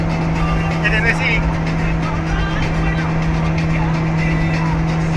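Toyota car engine holding a steady drone at about 5,000 rpm while driving, a constant loud hum with road and wind noise under it and someone talking over it.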